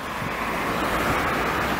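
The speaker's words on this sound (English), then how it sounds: "Here's the ocean." Ocean waves at Daytona Beach make a steady, close wash of surf blended with wind noise on the microphone, with no speech.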